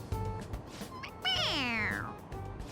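Toy cat in the video game Persona 5 Royal meowing when its head is pressed: a single drawn-out, falling electronic meow, loud and clear, set between brief game sounds.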